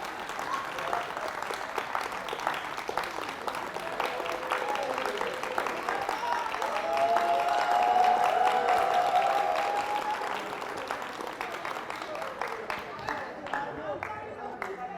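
A live stage audience claps continuously for about fifteen seconds, a dense and steady wash of hands that swells slightly in the middle, with voices faintly audible over it.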